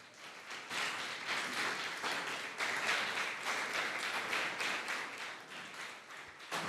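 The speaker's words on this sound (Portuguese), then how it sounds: "vamos aplaudir a Jesus" Sustained applause from a large crowd, dense steady clapping that swells slightly and continues throughout without voices.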